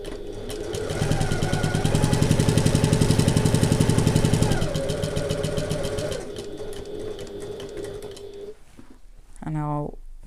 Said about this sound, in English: So I'm sewing at 1/8 of an inch away from the top